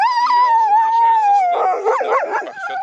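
Sled dogs in Iqaluit howling, one long sustained howl joined by a chorus of overlapping yips and barks, loud and close.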